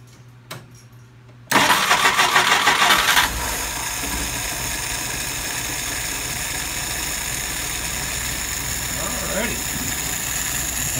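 A warm engine on a WO 539S carburetor test cranks briefly and catches, then settles into a steady, loud idle that runs on close by. A person talks over the engine.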